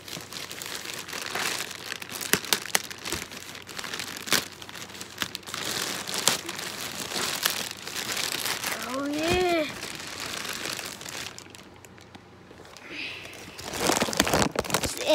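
Packaging around new boots being ripped open, crinkling and tearing in a long busy stretch of paper or plastic rustling nearby, with a voice briefly speaking partway through.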